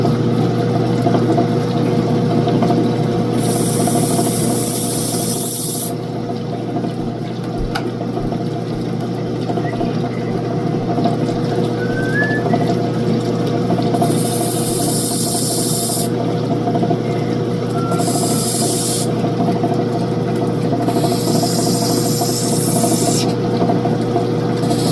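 An opal stone is recut and shaped on a lapidary machine: a loud, steady motor hum with a bright hiss of grinding that comes and goes in stretches as the stone meets the wheel, close up with no talk.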